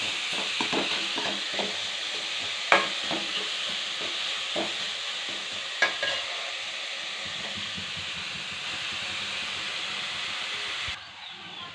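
Onion and carrot fry in a pan for a masala omelette, making a continuous sizzle broken by scraping stir strokes and a couple of louder utensil knocks, with no talking until the sound cuts off near the end.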